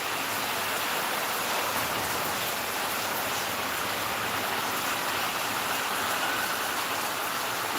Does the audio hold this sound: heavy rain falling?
yes